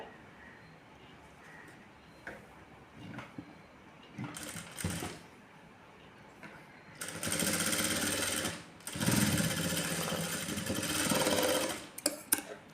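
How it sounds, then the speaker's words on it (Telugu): Sewing machine stitching a blouse seam, quiet handling at first, then two sustained bursts of rapid needle clatter in the second half, close and fairly loud, with a brief pause between runs. "ఇటు సైడ్ కూడా అలానే స్టిచ్చింగ్ చేసుకోవాలి"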